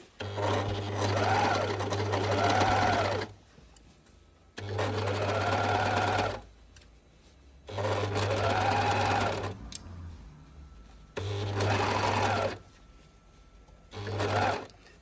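An overlock serger sews an invisible stitch along a folded hem in four long, steady runs of fast whirring, each separated by a brief quiet pause, close and fairly loud.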